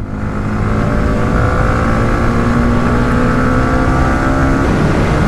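A motorcycle cruises at night on the expressway toward Mawa, its engine drone loud and steady up close with a constant tonal whine and rushing wind, no speech.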